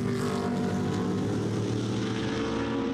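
GT racing cars, among them a BMW Z4, run on the Nogaro track, a continuous loud engine drone with stacked tones and a slight pitch wobble, with no talk.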